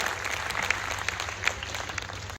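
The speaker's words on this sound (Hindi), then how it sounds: "जोरदार तालियां" Sustained audience applause at a Deoria festival poetry recital: a dense, steady wash of clapping with a few sharper claps standing out, continuing evenly for a couple of seconds before cutting off.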